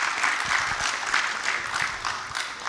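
An audience at an India–Latin America and Caribbean business conclave in Hyderabad applauds with sustained, dense clapping that stays steady and fairly loud for the whole stretch.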